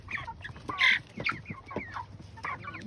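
A hen suffering from Marek's disease clucks and squawks close by in a rapid, uneven series of calls, including one louder, shrill cry.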